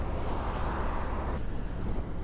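Strong wind buffeting the microphone on a Harley electric motorcycle ride near Joshua Tree National Park, with a low, rumbling roar that continues steadily from start to finish.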